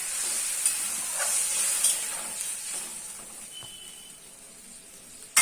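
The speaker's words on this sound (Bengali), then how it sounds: "এবার এতে দিয়ে দিচ্ছি পরিমাণ মতো জল এবং সব কিছুকে ভালো করে মিশিয়ে দিচ্ছি।" Bengali katla fish curry cooking in a pot after water is added and stirred in, a steady hissing simmer with faint scattered stirring scrapes and a small knock at the end.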